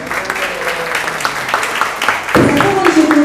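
An audience applauds at a Mother's Day gathering, a dense patter of clapping that holds steady and swells louder partway through, with voices audible under it.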